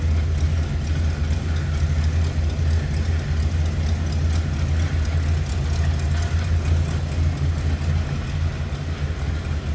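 A 1956 Ford Crown Victoria solid top idles steadily, its engine purring with a low, even rumble that holds throughout with no voices.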